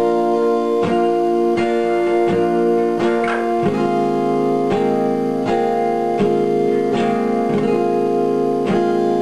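Strummed acoustic guitar chords from a song ring out loudly, with regular sharp strums roughly every second and a bright, sustained tone.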